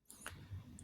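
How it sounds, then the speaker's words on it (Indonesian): A milk steamer lid snapping and locking onto its handle: a couple of quick, faint plastic clicks within a second, close by and otherwise quiet. "dan ditandai dengan bunyi klik yang tadi itu di gagang"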